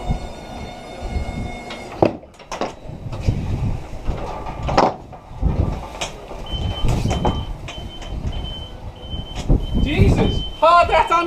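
A forklift reverses at a work site, its electronic warning beeps repeating steadily near the end over engine rumble, clanks and knocks, with people talking throughout.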